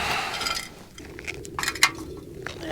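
A can is handled outdoors, giving several sharp metallic clinks and taps at irregular intervals against a light background rush, fairly close and without speech.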